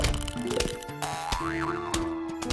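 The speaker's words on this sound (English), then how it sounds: "sometimes the pinging will even drown out the sound of the music in the background" Plants vs. Zombies game audio carries bright pinging tones and a springy boing-like sweep over background music, a quick sequence of electronic game effects with no talking.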